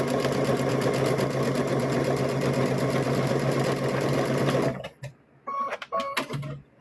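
A sewing machine back-stitches the seam of a stuffed bear, a loud, steady mechanical whir that stops at about five seconds and gives way to a few short bursts of stitching.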